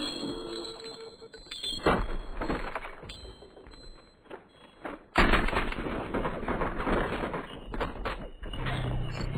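Gunfire from the Warzone (Modern Warfare) video game comes as sharp repeated shots and bursts over continuous in-game noise, with a louder burst partway through.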